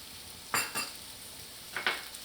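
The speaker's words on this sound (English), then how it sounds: "Saute that." Thai green chilies split in half hit a hot pan, giving two short bursts of sizzling stir-fry noise early on and another pair later, with a steady low frying hiss between them and no talking.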